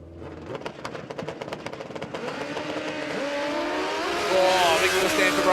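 Kawasaki and Hayabusa drag racing motorcycles at a drag strip, engines revving in a rapid burst then building into a steady rising roar that grows louder toward the end.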